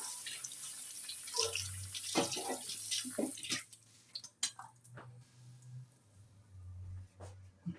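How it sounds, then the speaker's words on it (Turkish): A kitchen tap runs while hands are rinsed during potato patty making, water splashing and dripping in uneven bursts with a low steady hum underneath, fairly close and alone. "Şöyle elimi bir yıkayayım."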